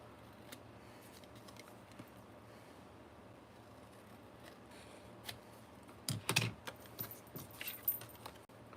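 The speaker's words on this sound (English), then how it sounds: "we are just going to scissor cut it" Scissors cutting through a paper junk-journal tag, a short cluster of close snipping and rustling near the end after a long stretch of quiet room tone.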